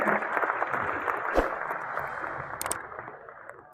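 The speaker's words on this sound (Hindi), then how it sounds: "मैं सभागृह में उपस्थित सभी लोगों से आग्रह करूंगा कि जोरदार तालियों से हम दुष्यंत भाई साहब का स्वागत करें।" A hall fills with steady clapping from a crowd at a BJP event in Indore, India, a dense continuous patter that slowly tapers off.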